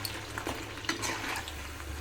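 Food fries in a pan while being stirred, a quiet continuous sizzle broken by scraping and occasional utensil knocks, close by with a low steady hum underneath.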